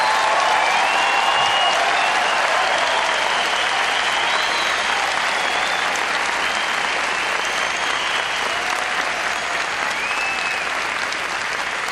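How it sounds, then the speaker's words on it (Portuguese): A church congregation applauding during a service: dense, loud, sustained clapping from a large crowd that continues unbroken throughout. "Eu gostaria que você desse um aplauso ao Senhor pela vida do pastor Fadi."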